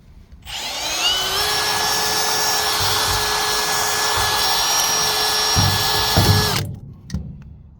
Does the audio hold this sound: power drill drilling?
yes